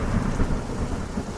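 Thunder effect in a stage performance of King Lear's storm scene, a loud, continuous low rumble with rain-like hiss over it, heard alone without voices.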